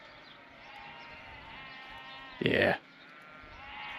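A single short, loud sheep bleat rises from a pea straw shelter on a New Zealand lifestyle block, standing out from a quiet background; a person speaks briefly around it.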